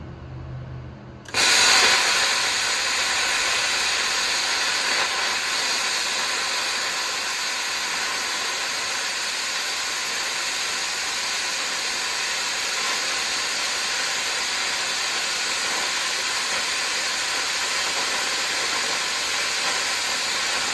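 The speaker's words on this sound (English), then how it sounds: "I'm going to whack that out with the plasma cutter" A plasma cutter cuts through steel for a 3-point hitch boom pole build, switching on abruptly with a loud, steady, unbroken hiss that runs close and alone for about twenty seconds.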